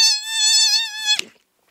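A beatboxer's voice imitates a buzzing mosquito, a loud, steady, close-up whine lasting about a second that wavers slightly before cutting off with a short breathy burst, then silence.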